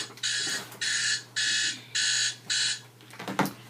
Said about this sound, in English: Hold on, that's my alarm.